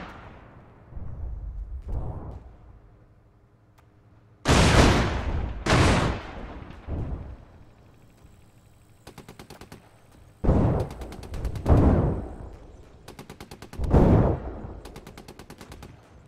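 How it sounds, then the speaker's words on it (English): Gunfire hitting an M113 armored personnel carrier in a military combat video game: several loud bursts of automatic fire and heavy shots in irregular clusters, with quieter rumbling between them. "they're shooting at our M113"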